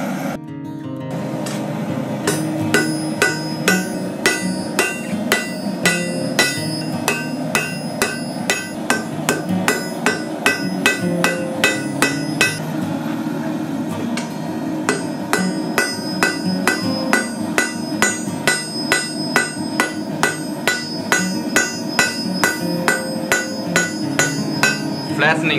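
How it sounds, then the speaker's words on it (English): Steady hammer blows ring out on hot steel being forged into tongs, a fast regular rhythm of bright metallic strikes running nearly nonstop and close by, with no talking. "Flattening this a bit and straightening up before going back into the file."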